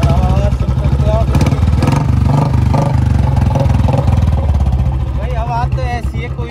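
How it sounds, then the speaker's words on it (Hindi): Royal Enfield Bullet Electra 350 motorcycle engine thumping loudly and steadily close by after starting, its deep pulsing beat running throughout, with someone talking over it. "आवाज तो ऐसी है कोई भी साइड में से निकलेगा वो देखेगा जरूर बुलेट जा रही है"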